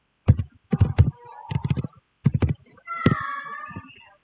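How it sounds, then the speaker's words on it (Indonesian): Keys clatter on a computer keyboard as a command is typed into a Windows 10 command prompt, several quick bursts of clicks close by, then a short pause and a final flurry. "Bisa kita ketikkan ipconfig."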